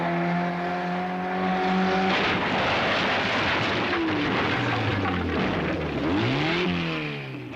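A stunt car races flat out toward a furniture van, its engine note climbing and sweeping in pitch as it speeds past, loud and near, followed by a heavier roaring burst.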